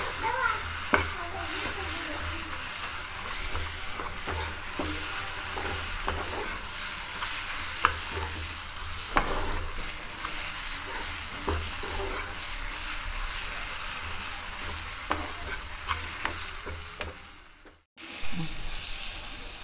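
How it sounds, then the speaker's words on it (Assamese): Potato pieces fry with browned onion and tomato in a pan for an egg curry. A steady, loud sizzle runs throughout, with scraping stir strokes, and briefly drops out near the end. "ভালদৰে লৰাই 1 মিনিট ভাজি থাকিম"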